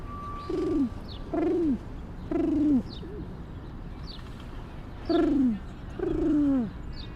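Pigeons coo in repeated soft, throaty phrases on a Manhattan street, several separate calls close by over a low background hiss.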